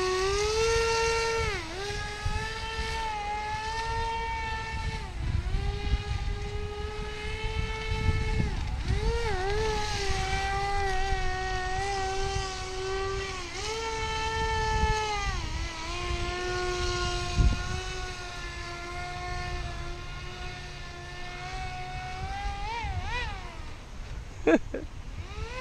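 Aquacraft Cajun Commander RC boat on water over rocks, its motor giving a sustained high whine that rises and dips in pitch as the throttle and turns change, loud and continuous.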